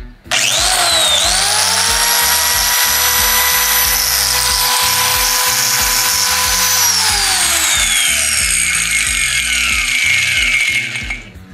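An angle grinder fitted with a XENON ring wall chaser adaptor, used for cutting grooves in concrete walls, spins up to a loud, steady high-pitched whine, holds for several seconds, then winds down near the end.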